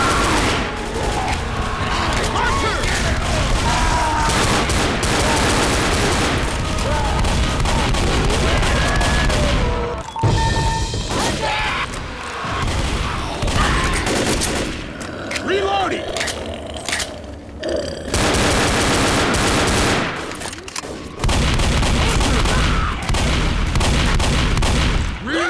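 Dense, near-continuous gunfire from Left 4 Dead survivors on 'The Street' in Death Toll, loud and sustained with rapid bursts and brief gaps, with shouted voices mixed into the fighting.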